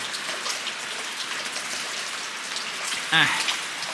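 Steady rain falls on an outdoor open-air kitchen throughout, a dense broadband hiss of drops with a brief louder splash or clatter near the end.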